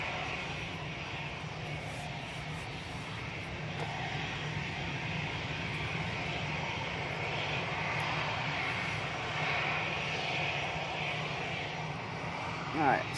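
Aircraft engine drone from a plane taxiing at Manchester Airport, a steady broad roar held throughout, moderately distant, with people talking over it.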